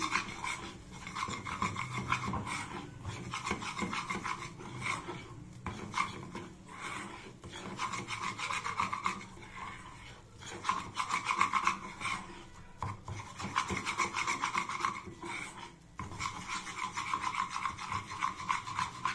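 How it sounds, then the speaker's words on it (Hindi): Flour roasting in a pan over low heat, stirred with a steady rhythmic scraping and rasping that repeats throughout, close and fairly faint with no talk. "मैदा बहुत अच्छा सा हमारा भून गया है।"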